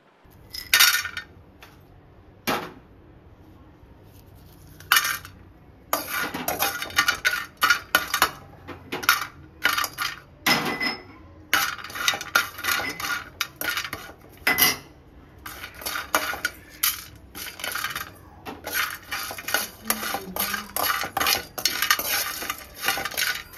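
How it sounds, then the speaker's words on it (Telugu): A utensil scrapes and clinks against a pan in quick, irregular bursts while whole spices dry-roast, close and fairly loud, with no talking. "ఈ మసాలా దినుసులన్నీ కూడా మనం కలిపి వేయించుకుందాము"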